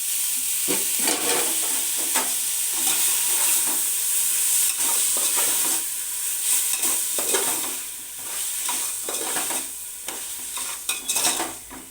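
Chicken pieces frying in a pan for biryani, a continuous loud hiss of sizzling oil with scraping stirs and clinks throughout, no voices.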